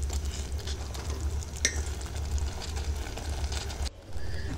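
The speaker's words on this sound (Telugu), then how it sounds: "ఇప్పుడు మనం ముందుగా ఉడకబెట్టి ఉంచుకున్న పప్పు రైసు ఉంది కదా, దాన్ని కూడా వేసేసుకొని ఈ బెల్లంలో ఈ రైసు పప్పు బాగా కలిసేలాగా మనం మంచిగా" Cooked rice and dal being stirred into hot jaggery syrup for sweet pongal, a steady close sizzle with soft scraping strokes of the spoon through the thick mixture, briefly dropping away near the end.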